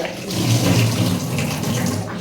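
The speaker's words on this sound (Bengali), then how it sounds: "আমি ট্যাপের কল চালাচ্ছি জলের জন্য" A tap runs at full flow, a loud, close, continuous gush of water splashing for a couple of seconds without any speech.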